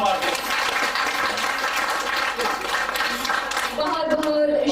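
A crowd at an engagement ceremony claps steadily and densely, a loud, continuous wash of applause that fades slightly at the end.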